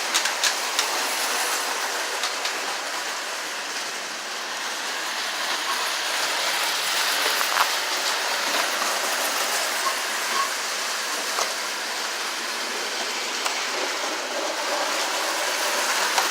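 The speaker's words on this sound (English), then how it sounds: "But as you can see, the trains are running." A small model train runs continuously on its track, giving a steady rattling whir with faint clicks and no voices.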